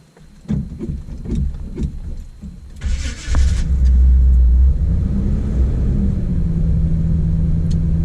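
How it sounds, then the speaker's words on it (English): A Chevy C10 pickup truck engine cranks and fires up, then settles into a loud, steady low rumble close by, with no talking. "let's go for a quick drive in the truck."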